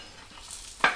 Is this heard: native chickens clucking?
no